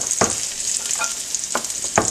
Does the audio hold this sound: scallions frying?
yes